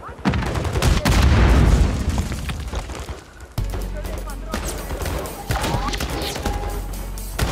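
Bomb blasts and gunfire in the Call of Duty Modern Warfare video game, loud booming thuds and rapid shots that fill the first seconds, then a second heavy burst with scattered bangs, while a voice talks over the action.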